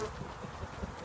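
A low, steady honey bee buzz hums throughout during a nucleus hive transfer, close and continuous, with no talking.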